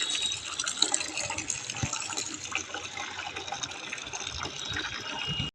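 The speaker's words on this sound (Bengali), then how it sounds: "আমি ওই জন্য একটু তাড়াতাড়ি করে জলটা ভরে নিলাম" Water runs steadily from a tap into a container for a few seconds, a continuous close gushing and splashing that stops abruptly at the end.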